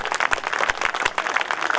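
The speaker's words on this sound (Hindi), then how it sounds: "एक बार तालियां बजाएं।" An audience at a Hindi comedy poetry gathering gives a short burst of dense, continuous clapping that fills the space throughout.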